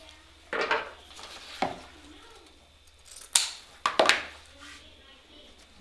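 Scissors trimming dovetail notches into the tails of a ribbon bow, heard as a handful of crisp, close snips spaced irregularly, with quiet pauses and soft handling rustle between cuts.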